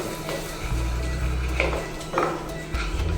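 Metal spoon scraping and knocking in a pan while sesame-jaggery laddoo mixture is stirred, with a few soft clinks, a steady low hum underneath and a faint voice.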